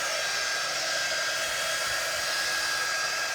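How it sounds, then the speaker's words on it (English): A quick-dry heat tool blows a steady, loud, hissing stream of hot air over fresh paint, close by and without a break. "I'm gonna go ahead and get my quick dry tool"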